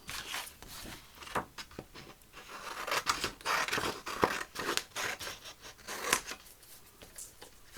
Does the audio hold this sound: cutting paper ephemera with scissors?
yes